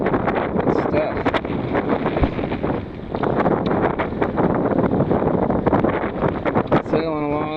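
Strong wind buffets the microphone throughout while sailing on a small boat in waves, a constant loud rushing roar with gusty surges and no clear voices.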